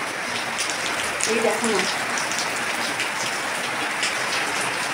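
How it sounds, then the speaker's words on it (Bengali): Heavy rain pours steadily as a dense, continuous hiss throughout, close and loud, with a brief voice speaking softly beneath it. "খুব জোরে বৃষ্টি এসেছে,"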